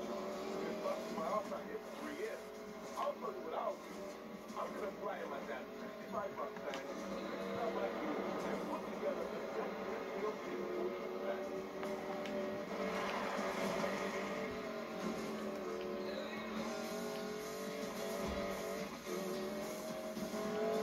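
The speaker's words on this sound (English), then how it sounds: "we're testing a car that my friend wants me to test" A car drives in the video game Need for Speed Payback, with a steady, loud engine roar and road noise running for the whole stretch without a break.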